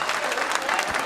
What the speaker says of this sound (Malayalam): ഒരു നല്ല കൈയടി പൊട്ടട്ടെ.